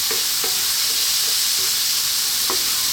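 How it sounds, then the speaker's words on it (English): Sweet corn and bacon sizzle in a hot pan as a utensil stirs through them, with a steady frying hiss and a few soft scraping clicks, no voices. "We can give that a little mix."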